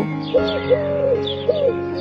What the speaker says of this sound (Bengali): ঘুঘু ডাকে গাছের ডালে।